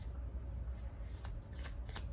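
Tarot cards riffle and slide as they are shuffled and drawn, soft papery flicks growing into a few crisp snaps near the end, close and quiet over a low background hum.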